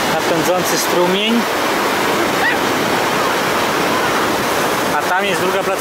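A rushing mountain stream or waterfall in Norway's Geiranger fjord pours out a loud, continuous roar. Brief faint voices surface near the start and end.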